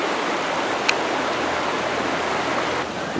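Creek water flowing steadily at a salmon spawning channel in Mission Creek, Kelowna, British Columbia, a constant close rushing wash with no voices.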